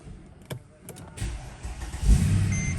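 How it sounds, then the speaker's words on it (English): A 2007 Mercedes ML63 fitted with a new crankshaft sensor cranks briefly and catches, its engine firing into a steady, close idle within about two seconds, with no voices. "The car starts fine."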